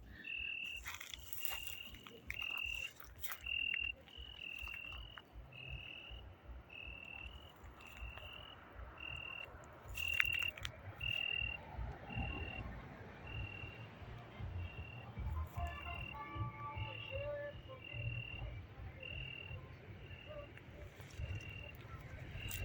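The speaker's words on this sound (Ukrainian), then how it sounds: "Чуєте, як цвіркун співає, допомагає мені знімати відео" A cricket chirps outdoors in autumn in a steady, evenly spaced train of short, high pulses that runs throughout, fairly faint beneath nearby rustling, handling noise and voices talking.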